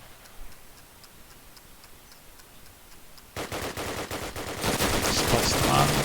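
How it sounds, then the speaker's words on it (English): Explosives planted and ticking in the game Call of Duty: United Offensive: a steady faint tick, then loud rapid automatic gunfire that grows heavier and more sustained. "Explosives planted"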